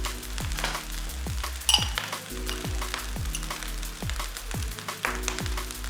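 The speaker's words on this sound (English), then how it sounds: "at this stage I'm going to go in with a little bit of soy sauce" Chicken fried rice sizzles steadily in a hot pan as soy sauce goes in, with a dense frying hiss and repeated rhythmic scraping and tossing strokes of a utensil against the pan, close and loud, with no talking.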